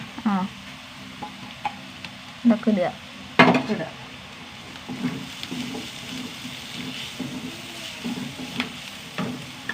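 Curry leaves with turmeric, chilli powder and garam masala frying in a pan, bursts of sizzling and spoon scrapes against the metal in uneven clusters, a few close loud clinks, with brief talk in between.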